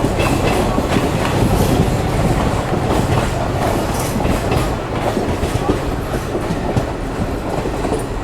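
Passenger train running on rails toward Jaisalmer through the Thar Desert, Rajasthan, heard from on board as a loud, steady roar with continuous clickety-clack of wheels over rail joints.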